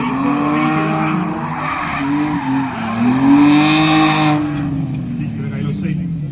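Drift cars sliding through a corner at the Mulgi Drift competition, with engines revving and tires squealing in long sustained wails, loud and close, with a commentator talking over them.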